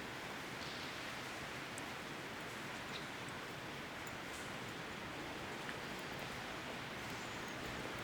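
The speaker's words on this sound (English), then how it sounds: "It's just been replaced with the rain now." Rain falling inside an abandoned car factory, a faint, steady broadband hiss of distant rainfall with a few soft drips, continuous and without talk.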